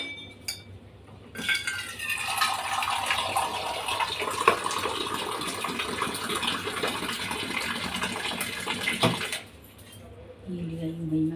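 Tap water gushing steadily into a container in a home kitchen while dough is being prepared, a loud continuous rush lasting several seconds before cutting off, with a voice briefly after.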